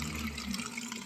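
Well water being filled into a pot, a close, continuous splashing and gurgling pour that runs steadily throughout, with no talking.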